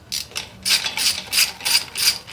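A hand ratchet clicks in quick, close bursts while unscrewing the bolts of a fuel pump, five or six rhythmic ratcheting strokes in a row.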